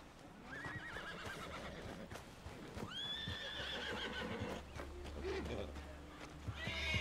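A horse in Red Dead Redemption 2 whinnies several times with high wavering cries, hooves clopping and a low rumble beneath, with voices speaking faintly in the background.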